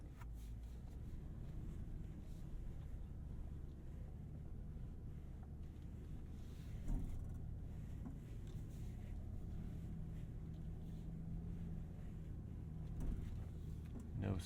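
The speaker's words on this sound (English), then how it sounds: "No struggle from the V8." Steady low rumble of a 2021 Toyota Land Cruiser V8 driving off-road, a continuous in-cabin drone with wind buffeting and a few bumps, running evenly throughout.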